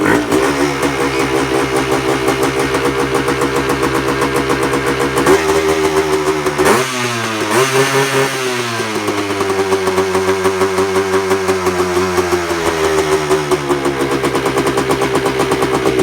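A Yamaha Tri-Z 250 two-stroke three-wheeler engine fires up and runs, a loud, buzzy steady idle with a few throttle blips that rise and fall in pitch, close up and without voices.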